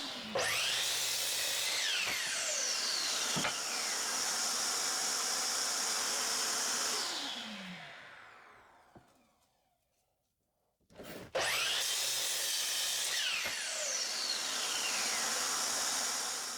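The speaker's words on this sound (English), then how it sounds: "I'll chop off both ends square on the miter saw and cut it in half" A miter saw cuts a walnut board: a loud whining motor spins up, bites through the wood and winds down, followed after a short pause by a second cut, close with no talking.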